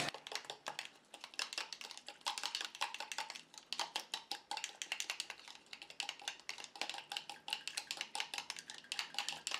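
Oat hand cream ingredients being mixed in a bowl, with rapid, busy clicking and clinking strokes that keep going almost without a break. The sound is fairly close, and no one speaks.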